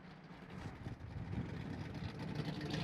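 A 1965 Ford Mustang with its exhaust fitted runs while driving, giving a quiet, steady engine drone with rough low rumbling and road noise that swells slightly over a few seconds.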